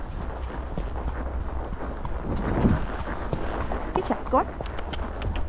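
A horse ridden outdoors on a helmet-camera hack, hooves clip-clopping in a steady rhythm at close range while the rider speaks encouragement over them.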